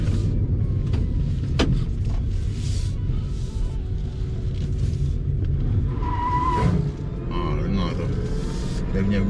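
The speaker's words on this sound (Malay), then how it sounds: "Dia punya wheel spin lah. So, memang banyak torque." An electric car spins its wheels under hard acceleration, with tire squeal and a faint whine rising over the muffled road rumble inside the cabin, while people talk.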